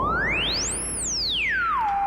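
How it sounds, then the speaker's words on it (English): A single pure sine-wave tone from a Joranalogue Generate 3 synthesizer module glides smoothly upward in pitch, peaks very high, then sweeps back down and settles, steady and clear with no other sounds. "Okay, so that's the sine wave right there."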